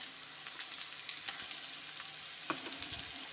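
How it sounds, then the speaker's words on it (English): Onions fry in a pan with hing powder, a soft steady sizzle with faint crackles and a small spoon clink, quiet and close with no voices. "fry until the onion becomes light brown in color."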